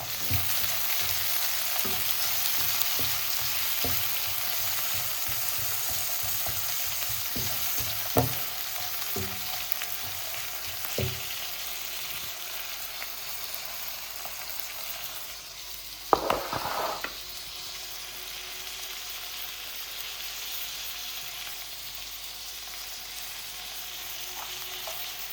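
Tomatoes fry in a pan of hot oil with a steady close sizzle throughout, broken by scattered clicks of stirring early on and a brief louder scrape of the spoon near the middle.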